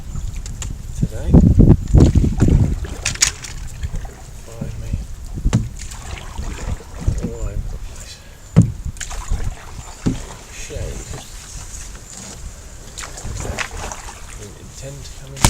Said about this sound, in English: The wind is quite problematic